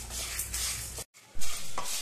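Dry sambar masala spices rattle and scrape in a pan as they are slow-roasted over a low flame and stirred, a steady gritty clatter with a short pause midway.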